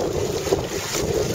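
Steady wind buffets a reefed pedal boat sailing a broad reach at sea, a constant loud rush with microphone noise and a faint wash of water throughout.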